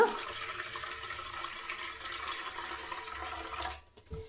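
Starchy water from washing rice pours steadily into a vessel with a continuous splashing flow that stops abruptly near the end.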